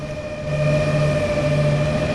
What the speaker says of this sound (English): Set the AFB to line speed and give the locomotive more power.